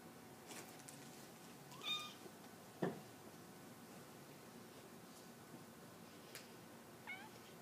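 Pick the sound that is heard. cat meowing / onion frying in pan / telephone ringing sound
cat meowing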